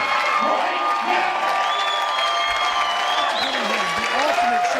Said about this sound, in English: give this man a round of fucking applause right now